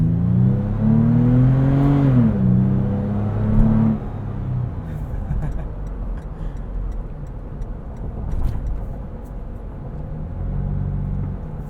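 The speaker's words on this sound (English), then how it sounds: "let's do a little acceleration run here" A 2022 Toyota 4Runner TRD Pro accelerates from inside the cabin, its engine note rising steadily then shifting as road rumble and wind noise take over, a continuous close drone with no talking.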